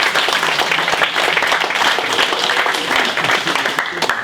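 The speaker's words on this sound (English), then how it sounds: "Everybody give your teammates a round of applause" Loud, dense applause from a youth group cheering their teammates at a motivational speaking session, continuous rapid clapping close by for several seconds with scattered voices.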